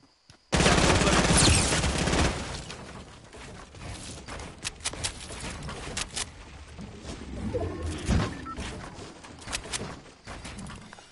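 Rapid bursts of gunfire in a Fortnite battle on PS4, a loud sustained volley opening the clip, then scattered sharp shots and short bursts trailing off over the following seconds.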